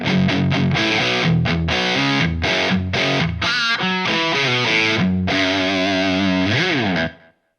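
An electric guitar played through a Proco Rat distortion pedal set low at about nine o'clock, giving loud, gritty, sustained chords and picked notes that ring out, then stop abruptly.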